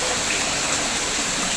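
Indoor waterfall at Cloud Forest, Singapore, pouring in a constant dense hiss and splash, close and even throughout, with no speech.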